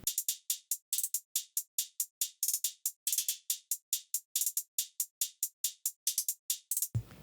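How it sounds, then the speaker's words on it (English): An ambient beat made in FL Studio with a half-speed Gross Beat effect: a steady, choppy electronic pattern of short high bright hits repeating quickly, with a low thump at the very end. "I added gross beat, half speed to it."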